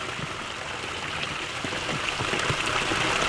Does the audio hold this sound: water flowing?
yes